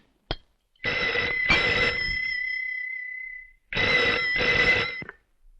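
A telephone rings in two bursts, each a pair of bright trilling rings, loud and close with quiet gaps between.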